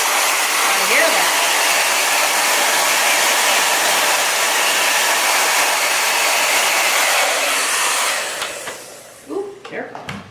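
A blow dryer running on its turbo setting pushes acrylic pour paint, a loud, continuous close roar that holds steady for several seconds before switching off, followed by faint clicks, handling noises and brief voices.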